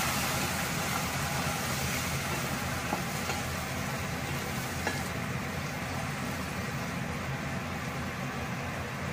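Chicken fry cooks in a pan, giving a dense, continuous sizzle and scraping hiss while it is stirred, with a faint clink or two and no talking.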